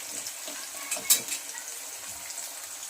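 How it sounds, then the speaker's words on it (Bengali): Desi ghee crackling as it heats in a pan for fried rice, a soft, close sizzle with a brief sharp pop and scrape around the middle, no talk over it. "আমি এর মধ্যে ঘিটা দিয়ে দিচ্ছি, গাওয়া ঘিটা। দিয়ে একসাথে ভেজে নেব।"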